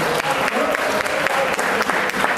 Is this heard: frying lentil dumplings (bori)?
no